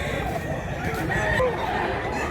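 Rooster crowing rises over a busy, noisy market full of people and chickens, with a murmur of crowd voices underneath throughout.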